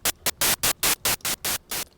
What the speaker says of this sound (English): You can either choose the white noise,